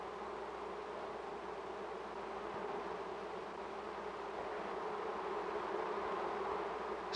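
Honey bees buzzing in a steady, dense drone that holds evenly throughout, with no voices.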